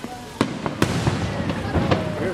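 Fireworks crackle and pop outdoors in a string of sharp bursts, several distinct bangs over a rumbling backdrop of more distant explosions.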